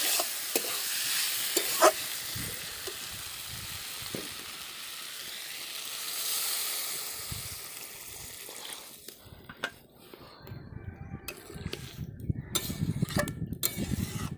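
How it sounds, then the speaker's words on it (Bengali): Bottle gourd sautéing with chilli in oil in a pan over a clay stove gives a steady close sizzle with stirring scrapes. Partway through, water is poured in, and the hiss turns into quieter bubbling with intermittent clatter. "এই যে হয়ে গেছে লাউটা কষা, এবার জল দিয়ে দিচ্ছে।"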